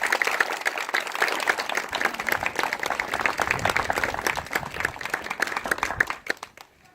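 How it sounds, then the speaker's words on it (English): Community audience in an old building applauding committee members, steady dense clapping from a crowd lasting several seconds before fading out. "so that we can offer you a round of applause and say thank you"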